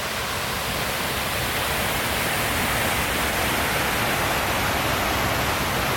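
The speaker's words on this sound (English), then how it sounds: "So here we have the overflow from Yarrow Reservoir" Water spilling over the overflow of Yarrow Reservoir where it joins Upper Rivington Reservoir, a steady, loud, broadband rush that stays even and close throughout with no voices.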